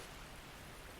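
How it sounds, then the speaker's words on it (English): Splashing footsteps of a character running through water in Dark Souls Remastered, a steady wet wash of noise with no distinct individual steps, heard alone. "We're running in the water."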